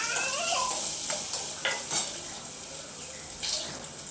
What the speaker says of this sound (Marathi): चला तर मग आता थोडंसं ना कांदा आणि खोबरं भाजून घेते.